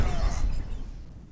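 Reinhardt's Earthshatter ultimate in Overwatch slams down with a heavy, crunching shatter and low rumble that quickly decays into quiet, heard on its own without talk.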